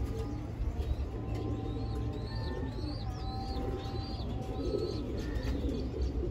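A newly paired couple of prize hobby pigeons in a loft, giving repeated soft coos and chirpy calls at a moderate distance over a low steady background hum, with no talking.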